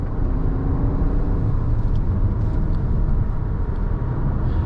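A 2021 Subaru Forester Touring drives through a corner, with a steady, fairly loud rumble of engine and road noise heard from inside the cabin and no talking.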